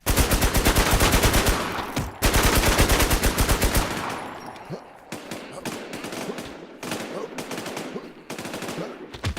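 Rapid automatic gunfire from an online shooter game, long sustained bursts up front giving way to shorter separate shots and volleys, loud and close, with players speaking over it.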